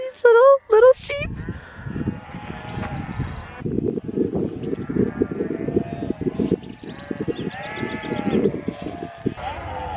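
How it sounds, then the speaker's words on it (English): Small sheep bleat loudly and close by beside a campsite, several overlapping calls repeating over a continuous rustling of hooves and movement, with a voice speaking at the start. "the beautiful sound of these little sheep"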